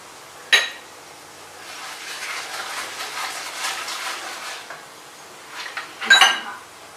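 Raw mango rice ingredients being stirred and sautéed in a pan, with two sharp metallic clanks of spoon on pan bracketing a soft, steady scraping and sizzle, close and alone.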